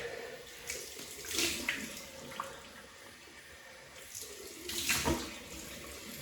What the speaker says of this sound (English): Cold water. Nice rinse.